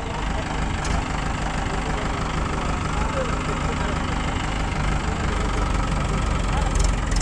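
Mahindra 585 DI tractor engine running steadily while hitched to a trolley stuck in straw, a loud, continuous low knocking diesel drone close by, with people talking over it.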